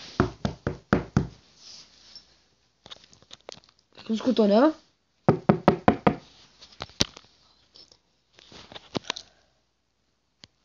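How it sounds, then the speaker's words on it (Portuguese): Several sharp knocks on a door in Minecraft, loud and close, mixed with lively talking voices and brief crinkly noises. "Bate na porta."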